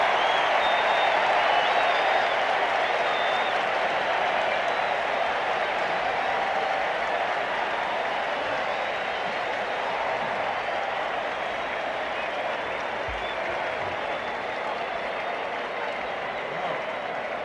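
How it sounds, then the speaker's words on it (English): A large baseball stadium crowd cheers and applauds after a double at a Twins at Red Sox game, a sustained roar of clapping and shouting that holds loud then eases slightly. "So for the first time really in this ball game, this big crowd has come alive."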